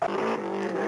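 Arcade-style car engine from the MAME racing game Blomby Car, a steady loud electronic motor drone with a buzzing harmonic tone held continuously for under a second, no talking over it.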